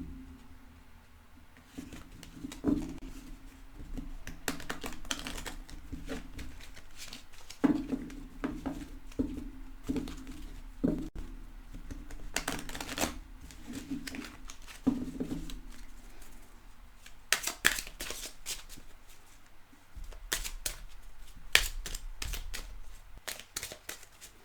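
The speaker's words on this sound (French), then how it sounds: "je vais commencer par mélanger comme d'habitude. Et puis on va voir ce que les cartes ont à nous dire" Tarot cards being shuffled by hand in quiet bursts of crisp riffling and patter, pausing between passes, close and soft with no talking.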